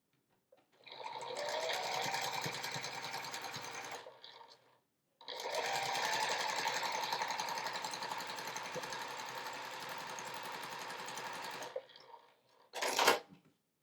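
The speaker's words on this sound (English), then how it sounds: "we'll sew a 1/4 inch seam across here" Sewing machine running steadily through a quarter-inch quilt seam, two long continuous stretches of close, even stitching separated by a brief pause, ending with a short burst.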